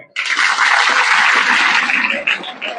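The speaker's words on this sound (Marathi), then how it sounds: "यांच्यासाठी एकदा जोरदार टाळ्या." An audience at a speech event bursts into applause, a dense roar of clapping that starts abruptly, stays loud and steady, then thins slightly toward the end.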